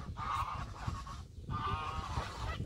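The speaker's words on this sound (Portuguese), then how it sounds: "eu vi os gansos ali correndo" Geese honk repeatedly in a noisy chorus of nasal calls, fairly close, with a brief pause in the middle.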